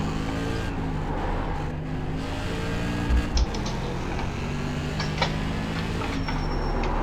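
An SK Modified race car in iRacing drones with a steady, loud engine tone, holding near-constant revs with slight rises and dips, joined by brief thumps.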